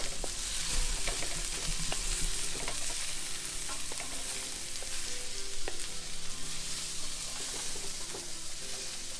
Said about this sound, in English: guys want to do is gisa them or saute them, the onions, the garlic